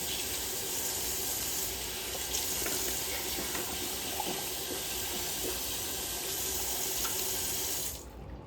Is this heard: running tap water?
yes